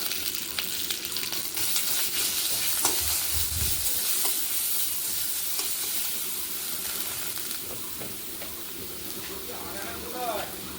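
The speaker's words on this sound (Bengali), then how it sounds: "সেই ভাজা তেল আর রসুনের মধ্যে আমি থানকুনি পাতাটা দিয়ে দিলাম" Pennywort leaves dropped into hot oil with fried garlic crackle and sizzle continuously, close and steady, with stirring clatter and a brief voice near the end.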